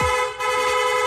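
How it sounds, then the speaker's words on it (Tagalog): A loud, close car horn blares continuously, with a brief dip partway through before sounding again. "Pwede ring rapid horn"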